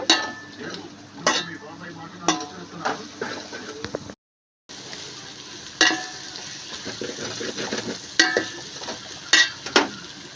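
Tempering spices for a bottle gourd curry sizzle and crackle in a hot pan, with steady frying hiss broken by sharp pops and stirring clatter, cut by a brief silent gap midway.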